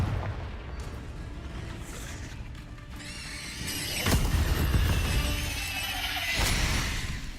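Repeated booming blasts from the Confringo explosion spell in Hogwarts Legacy, heavy impacts with crackling debris and mechanical clatter, several bursts rising in loudness across the span.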